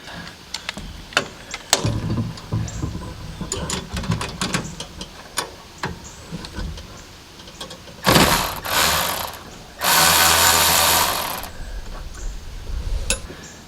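A wrench works a jam nut loose on a Husqvarna zero turn mower's hydro drive linkage, a string of sharp metallic clicks and ratcheting taps broken by two longer bursts of rushing noise.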